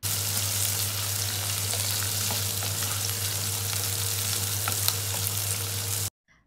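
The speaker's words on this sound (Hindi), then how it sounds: "तकरीबन हमने यहाँ पर इसे फ्राई करना है 2 से 3 मिनट तक दरमियानी आँच पर" Capsicum and green chillies fry in a pan over medium heat for a black pepper chicken dish, giving a steady, close sizzle with faint stirring clicks that cuts off abruptly just before the end.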